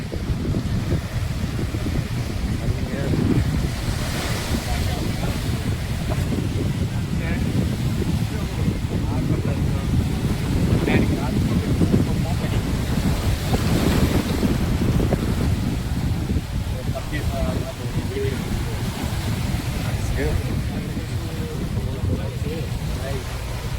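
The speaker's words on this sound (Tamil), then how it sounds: "நல்ல காற்றடிக்குது." Strong wind buffeting the microphone on a speedboat at sea near Gili Trawangan, Indonesia, a loud continuous roar with surging waves and a low engine rumble beneath.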